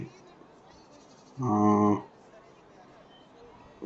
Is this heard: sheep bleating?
yes